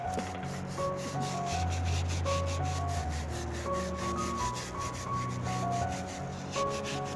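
A brush scrubs the bark of an apple tree clean in an orchard, steady rapid rasping strokes close up with a rhythmic scraping pulse throughout, faint tonal background sounds behind it.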